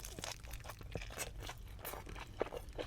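Crispy cheese-crusted quesabirria taco bitten and chewed close up, a series of quiet crunches and crackles with softer mouth sounds between, faint overall.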